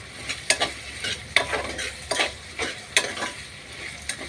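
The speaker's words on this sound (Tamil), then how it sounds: "நல்லா எல்லாம் கிளறி விடுவோம்." Vegetables sautéing in a pan for vegetable rice are stirred with a spoon, giving a steady series of scraping strokes and light clacks over a faint sizzle, close and without talk.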